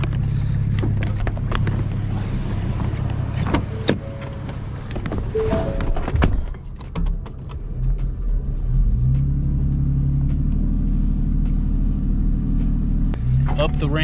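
A tow vehicle hauls a bass boat on its trailer up a launch ramp, a steady low engine rumble that swells and strains near the end, with voices talking over it.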